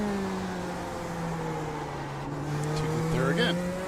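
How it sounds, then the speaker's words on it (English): Race cars in a sim racing game drone steadily with engine notes that sweep slowly as faster cars close in and go by, with a brief flurry of higher tones near the end. "Faster cars approaching."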